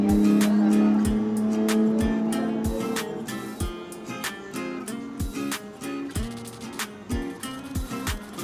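A car drives in the video game PUBG, its engine droning steadily under a string of sharp clicks and thumps that come faster toward the end.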